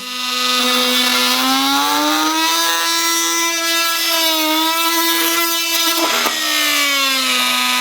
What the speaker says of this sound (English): You can see on automatic, the tool starts up at a lower RPM.